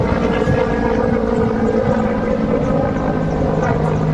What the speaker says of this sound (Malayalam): ആഹാ കൊള്ളാം മൂന്ന് ഹെലികോപ്റ്റർ